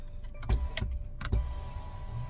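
Inside a running car, a power window motor whirs briefly amid a few soft thumps and clicks, all fairly quiet over a low steady engine hum.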